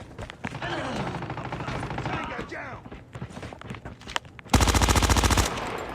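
MX9 submachine gun hip-firing in a video game, with scattered shots and game sounds under a voice, then a loud rapid burst of automatic fire near the end.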